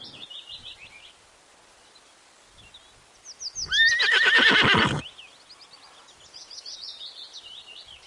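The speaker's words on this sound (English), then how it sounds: "H for horse." A horse neighs loudly at close range in one strong whinny of about a second, set against quiet outdoor bird chirps before and after.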